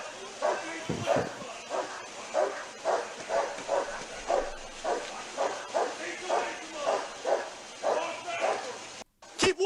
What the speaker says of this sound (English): That's a spicy dog right there.